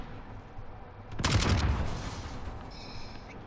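A single shotgun blast in a shooter video game, loud and booming with a lingering rumbling tail over a steady background hum.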